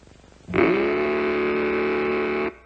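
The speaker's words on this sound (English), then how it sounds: "you can make it roar with Mattel's terrific new Baroom hot rudder engine." A loud, buzzing engine-like roar from a Mattel toy tricycle engine starts abruptly and holds steady for about two seconds before cutting off.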